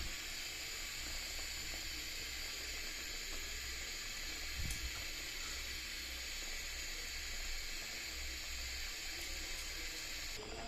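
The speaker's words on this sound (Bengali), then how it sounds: "ঝোলটা ফুটে আসা পর্যন্ত অপেক্ষা করবো" Pabda fish curry bubbling in a pot as it comes to a boil, a steady watery hiss and simmer with a brief louder disturbance midway, close and even throughout, no voices.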